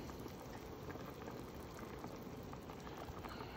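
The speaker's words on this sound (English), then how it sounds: "we want that to boil like that for a long time" A pot of liquid for Cajun sticky chicken at a steady rolling boil, a dense continuous bubbling and hiss, faint and even throughout with no voices.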